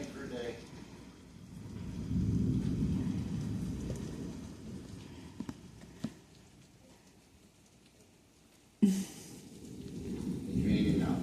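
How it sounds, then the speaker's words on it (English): Steady rain falls outdoors with a soft, broad hiss that swells and fades, broken by a few sharp cracks and a sudden loud burst near the end; voices murmur faintly underneath. "Yeah, it's raining."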